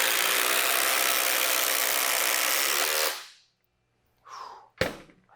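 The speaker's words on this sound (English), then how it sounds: "Same amount of fasteners have been driven." FLEX and Milwaukee Gen 3 impact drivers drive fasteners in a loud, continuous rattling hammer-whir for about three seconds, then cut off abruptly; after a brief silence come a couple of short, sharper bursts.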